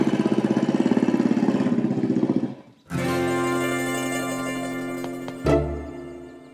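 A motorbike with a couple riding away: a loud, throbbing idle, a brief dip, then a steadier, higher engine drone with a sharp rev surge near the end.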